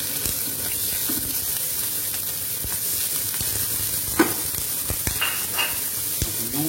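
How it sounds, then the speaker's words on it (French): Mushrooms sizzling in olive oil in a pan, a steady close frying hiss with occasional scrapes and taps as they are stirred. "Les huiles d'olive pour sauter nos champignons."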